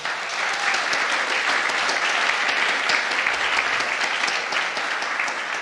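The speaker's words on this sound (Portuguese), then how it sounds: "Aplauda o Senhor." Church congregation at a Videira church service in Goianésia claps together in a loud, dense, continuous round of applause that holds steady for several seconds.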